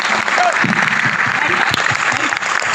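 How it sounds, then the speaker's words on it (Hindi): An audience at a motivational session claps loudly and steadily, a dense wash of hands close by with no pauses. "इस वक्त के लिए एक बार जोरदार तालियां बजाते हैं।"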